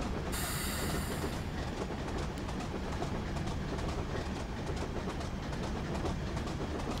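In Train Simulator 2021, a train rolls past on the Weardale and Teesdale line, and its steady rumble and rhythmic clatter run continuously at moderate volume, with a brief high hiss near the start.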